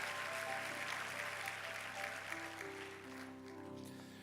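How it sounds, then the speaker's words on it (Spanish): A church congregation applauds in praise during a worship service, a broad wash of clapping under sustained music with organ-like held tones, fairly soft and continuous before fading slightly at the end. "Dale un aplauso al Señor por su misericordia, su bondad, su fidelidad"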